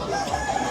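Brazilian breed rooster at a poultry market, a brief loud crow held steady over market background, no talk.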